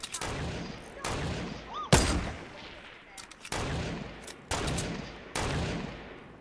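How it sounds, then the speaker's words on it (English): Loud gunshots ring out in a video game, coming one roughly every second as sharp, booming cracks with short tails between them, and a voice is briefly heard. "Oh, I shot him."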